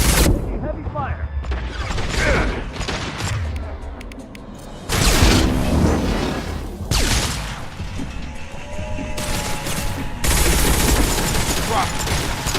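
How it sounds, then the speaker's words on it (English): Heavy gunfire from a Mass Effect 2 firefight, bursts of shots and impacts crackling across the whole stretch with a brief lull midway, mixed under steady combat voices. "Heavy fire."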